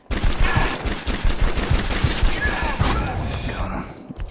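Rapid gunfire bursts from a video game match, loud and dense with repeated thumping shots throughout, fading toward the end.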